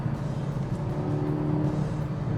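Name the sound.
car engine noise while testing a blow-off valve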